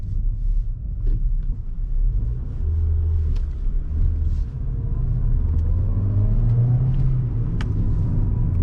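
Ford Fiesta engine rumbling steadily from inside the cabin as the car drives and accelerates, a low continuous drone with rising engine tones and no voices.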